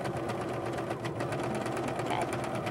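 A serger stitches fabric seams together close by, its fast, steady mechanical whir running without a break and a voice partly audible beneath it.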